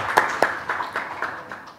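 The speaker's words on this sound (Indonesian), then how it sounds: "Tepuk tangan dulu dong" Sparse, quiet clapping from a small audience at an Indonesian school karate achievement talk show, several distinct claps over a low hum with no one speaking.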